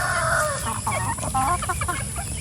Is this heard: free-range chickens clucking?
yes